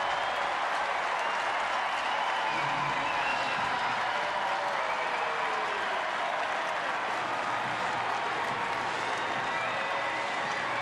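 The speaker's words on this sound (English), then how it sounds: "the Orioles fans have something to cheer about" Baseball crowd at an Astros–Orioles game roars steadily after an Orioles pinch-hit home run, a broad distant wash of cheering and clapping under faint broadcast atmosphere.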